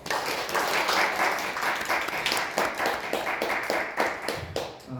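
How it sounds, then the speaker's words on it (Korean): Audience at a Korean media management conference applauds to welcome a speaker, a moderately loud patter of individual claps that thins out toward the end. "박수로 환영해 주십시오"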